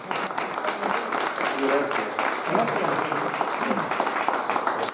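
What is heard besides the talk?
audience applause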